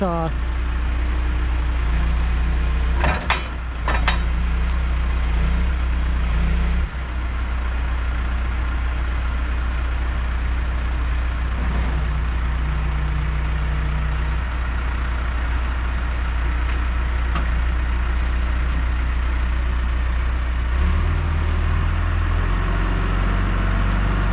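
A tractor engine runs steadily while pulling a stuck Chevy truck, a loud continuous low rumble with brief clanks early on and people talking over it.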